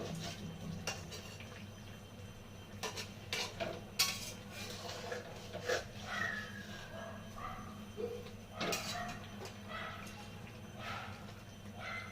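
A fish and eggplant curry (bhola fish) gently stirred in a pan, with light, irregular clinks and scrapes of a spoon against metal over a low steady background hum.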